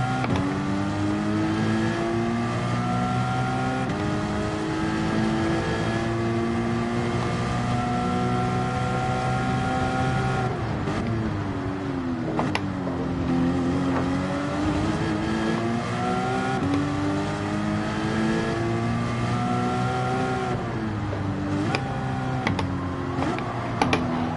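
Car engine in a Gran Turismo 7 race pulling hard in second gear, a loud continuous rising drone with steady harmonics that dips and climbs again at each throttle lift, around 11 and 21 seconds, with no talk.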